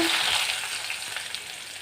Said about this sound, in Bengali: এখানে তেলটা গরম হয়ে গেছে, দিয়ে দিব পেঁয়াজ কুচি